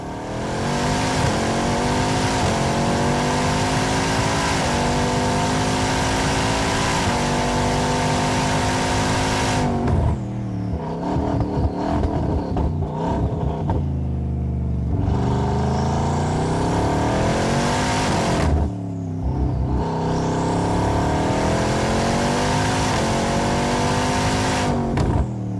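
A Bugatti Bolide hypercar screams around a track on an uninterrupted lap, its engine howling at high revs, dropping on shifts and braking, then surging again, loud and close throughout.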